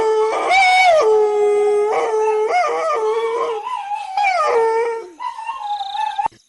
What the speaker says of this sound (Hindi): जोर जोर से भौंककर अपने साथियों को पुकारने लगता है।